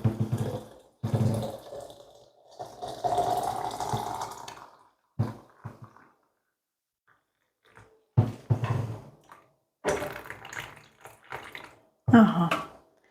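Boiled water poured into a pot holding quince peels, cores and sugar for compote, in several splashing bursts separated by pauses of quiet, close and fairly loud.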